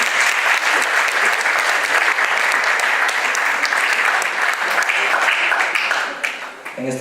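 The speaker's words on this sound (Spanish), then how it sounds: "Un fuerte aplauso." A hall audience gives a strong round of applause, dense and sustained clapping from many people that holds steady and loud for several seconds, then thins near the end as a voice begins to speak.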